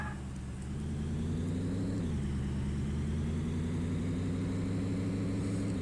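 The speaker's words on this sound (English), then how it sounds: "you can actually hear the air flowing over the truck. That's what that kind of like whistling, like rushing sound is in the background" Air rushing over a storm-chasing truck in the video game Tornado: Research and Rescue, a steady faint whistling hiss layered over a continuous engine drone that dips briefly and then holds.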